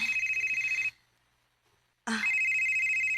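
A telephone rings with an incoming call, a close electronic trilling tone that sounds for about a second, stops for a pause, then starts again.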